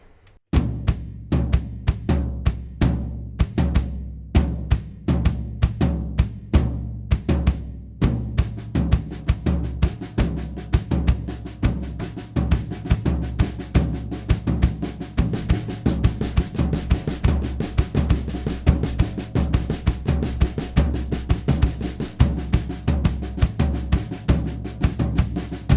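A drum kit plays a steady right-foot bass drum pattern with accented hits on top, dense and continuous for about 25 seconds with no voices.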